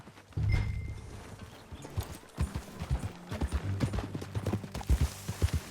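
Horse hooves clip-clop at a riding pace in Red Dead Redemption 2, a steady close rhythm of thuds starting abruptly and continuing throughout, with a brief low snort and no talking.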